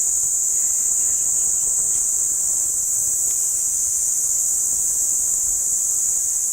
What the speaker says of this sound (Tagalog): Kuliglig sa tanghali.